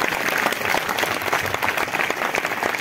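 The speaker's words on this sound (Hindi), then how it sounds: "जोरदार तालियां बजाएं" A church congregation claps enthusiastically at a Christmas service, dense and sustained applause filling the room from start to finish.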